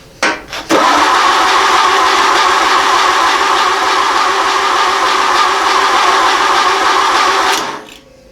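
A Ford AA starter motor cranks the engine in one long, continuous, loud whirring grind lasting several seconds, then cuts off abruptly.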